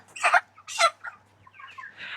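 Broiler chickens on a poultry farm, about 35 days old and 2.5 to 3 kg, giving a few short clucks and squawks in quick succession, fairly close and soft against a quiet background hum.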